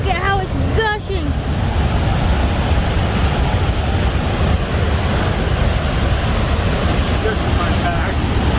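A powerful waterfall on a long hiking trail gushes in a dense, continuous roar, with wind buffeting the microphone and brief voices near the start.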